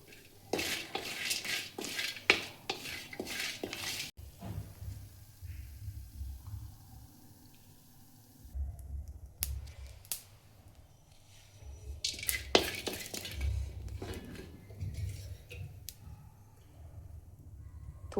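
Roasted whole spices for black masala are scraped out of a pan with a metal utensil, giving bursts of clinking and scraping metal against metal, broken by quieter stretches.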